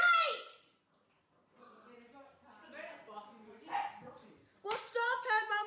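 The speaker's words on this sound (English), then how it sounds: "stop her from barking" A pet dog indoors in a home kitchen gives a few short barks and yips mixed with people talking, moderately loud and somewhat close, with louder talk at the end.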